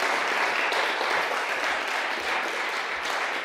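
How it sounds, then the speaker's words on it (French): Audience at an economics conference in France applauding after presentations, a steady, fairly distant wash of many hands clapping that continues evenly without speech. "On peut vous applaudir pour ces brillantes démonstrations."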